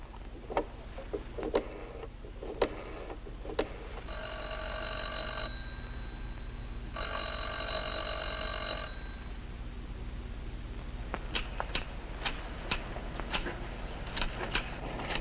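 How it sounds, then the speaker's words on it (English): An old-fashioned telephone bell in a 1950s television drama rings in two long bursts of several seconds each, separated by a short pause. It is fairly clear over a quiet room, with scattered soft clicks and knocks before and after. "The phone's been ringing night and day at the Grand Bungalow. There it goes again."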